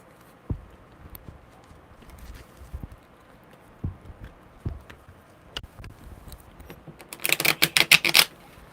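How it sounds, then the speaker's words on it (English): Tarot cards shuffled by hand at a table, scattered soft taps and flicks building to a rapid, loud riffling burst near the end, close and alone. "that was a really weird shuffle"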